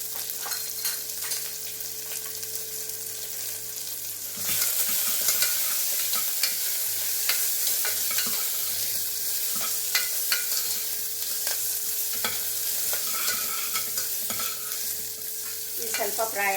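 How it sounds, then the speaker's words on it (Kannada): Green chilies and garlic frying in a pan for tomato dal: a quieter sizzle suddenly swells into loud, close crackling and spattering, with stirring scrapes and clicks of a utensil throughout. "ಇದು ಸ್ವಲ್ಪ ಫ್ರೈ ಆಗಬೇಕು."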